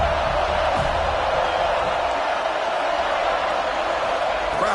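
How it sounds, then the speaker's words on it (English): American football stadium crowd roaring on a fourth-down play, a steady dense wall of cheering and noise that holds at constant loudness throughout. "Crowd trying to make a difference here on 4th down."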